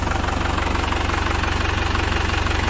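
A 2001 Isuzu Panther Kapsul SV engine idles steadily up close, with an even, rhythmic mechanical pulse and a faint knocking texture throughout.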